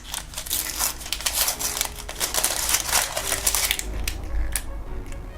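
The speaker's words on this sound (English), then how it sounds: "We'll just unwrap this." A JBL Vibe Beam 2 charging case being unwrapped from plastic packaging: busy close-up crinkling and crackling rustles, continuous and fairly loud, easing off near the end, with no speech.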